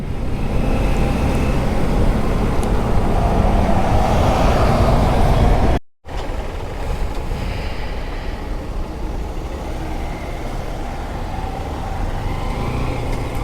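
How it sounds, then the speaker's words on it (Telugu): Heavy road traffic rumbles near a toll gate: a dense, continuous wash of engines from cars, trucks and buses, close and loud, with one brief dropout before the steady roar resumes. "టోల్ గేట్ల దగ్గర చూడండి ఎంత ట్రాఫిక్ జామ్ అవుతుందా"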